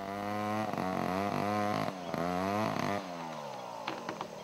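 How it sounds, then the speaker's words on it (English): Chainsaws clearing a former rubber plantation inside a national park, engines revving loud and close with steady whining drones that rise and fall as the blades bite into wood, continuing with fluctuating pitch throughout. "This time, the chainsaws are working legally."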